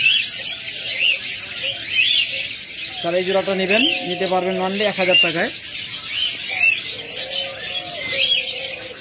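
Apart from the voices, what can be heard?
caged pet birds such as budgerigars and cockatiels calling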